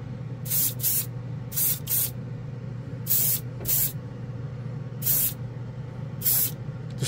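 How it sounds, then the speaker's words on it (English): Jumpwind glaze lacquer paint is sprayed from an airbrush onto a Gunpla model in about eight short hissing bursts, some in quick pairs, over a steady low compressor hum. "This stuff practically sprays itself"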